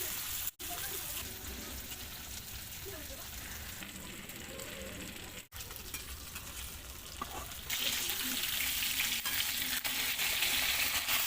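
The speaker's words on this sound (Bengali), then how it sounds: "মাছ ভাজা হচ্ছে।" Shol fish frying in a pan after being seasoned with turmeric, salt and chili paste, giving a continuous close sizzle with two brief dropouts that grows louder and brighter toward the end, heard without talk.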